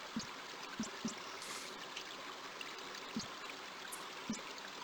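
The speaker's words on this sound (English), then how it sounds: "At least the water sounds realistic." Continuous flowing stream water from the King's Quest V video game, a steady trickling wash with a few soft gurgling pops, alone and fairly quiet.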